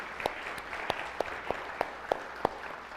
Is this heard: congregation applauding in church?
yes